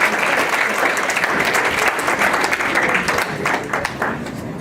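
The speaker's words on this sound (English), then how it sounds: "Now, guys, give them a round of applause." An audience at a stage hypnosis show claps for the performers, a loud, dense and steady round of applause held evenly for several seconds with a slight easing toward the end.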